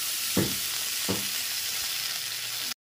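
Ginger paste cooks in a pan over a low flame with a soft, steady sizzle, broken by two quick scraping stirs before it cuts off abruptly.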